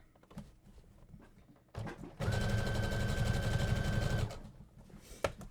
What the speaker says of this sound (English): We're just going to sew along, making sure our handles are flipped up so that we don't sew them down on accident.